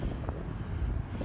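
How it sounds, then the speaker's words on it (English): Outdoor wind buffeting a microphone, a steady low rumbling roar filling the whole stretch with no voices. "It's windy out today"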